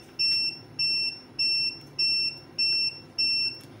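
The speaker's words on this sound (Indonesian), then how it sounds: "kemudian ada indikator berbunyi karena ada kelebihan beban." A SNADI 1000W 12V pure sine wave inverter sounds its overload alarm, six evenly spaced high electronic beeps repeating about twice per second, loud and close, with no talk.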